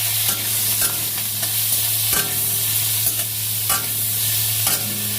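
Pieces of pointed gourd sizzle loudly in a pan, with sharp periodic scrapes of a spatula stirring them and a low steady hum underneath.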